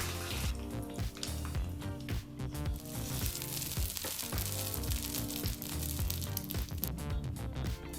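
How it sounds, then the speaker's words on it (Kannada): Hot curry leaf tempering hits a bowl of roasted gram and coconut chutney, giving a loud, dense sizzle and crackle that holds steady throughout with no voices. "ಸಿದ್ಧವಾದಂಥ ಈ ಒಗ್ಗರಣೆಯನ್ನು ಚಟ್ನಿಗೆ ಹಾಕ್ಕೊಳ್ಳೋಣ"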